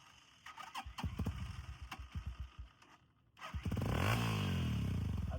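A motorcycle engine is kicked over and catches at a riding-practice session, first a run of uneven cranking thuds, then a brief lull, then a steady loud idle with a rising rev close by.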